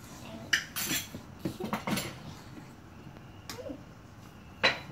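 A spoon clinks and scrapes against a bowl while butter is stirred into puto cheese batter, a run of light, irregular metallic taps close by, with quieter gaps between them.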